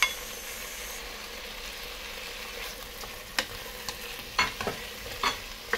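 A pot of native chicken sinigang with tomato is stirred, giving a low simmering sizzle broken by several sharp clinks and scrapes of a utensil against the pot toward the end, with no talk.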